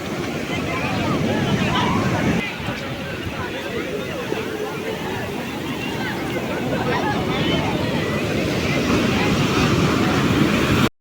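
Waves and strong wind on a clean sea beach at Padavane, a continuous loud roar of surf with gusts buffeting the microphone throughout.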